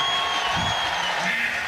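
Spectators at a men's college gymnastics meet between Illinois and Oklahoma clap and cheer after a vault, a dense, even burst of applause heard close with commentary voices over it.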